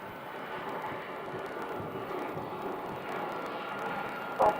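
Steady, distant jet aircraft noise drifts across a Dallas airport as planes taxi and line up near the runways, a continuous low roar with a brief louder bump near the end.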